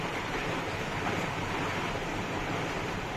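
Boiled Maggi noodles go into cold water, giving a steady, close rushing wash of water throughout with no talk.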